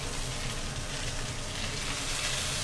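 Chicken pieces for teriyaki sizzle and crackle in a non-stick pan, a steady, soft frying hiss with no voices.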